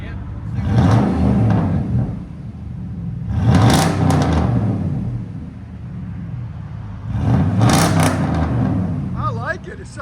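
Dodge Dakota with a double X-pipe exhaust revving twice in strong, rumbling bursts that swell and fade between a steadier idle, loud and close, with people talking over it.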